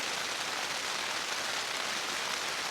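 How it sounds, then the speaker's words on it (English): Steady rain falls without pause, a dense, even patter heard from inside a sleeping bag, with no voices and no change in intensity throughout. "enjoy the sound of the rain"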